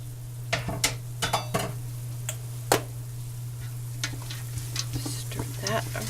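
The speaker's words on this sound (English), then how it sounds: "Stir that around." A spoon stirs tomato sauce with garlic in a pan, giving a run of close scraping clicks and knocks over a steady low hum, with a faint background sizzle and no talk.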